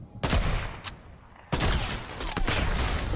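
Sniper rifle shots crack out in a video game, several sharp loud reports in quick succession, one heavy blast cutting in midway and sustained gunfire noise trailing after.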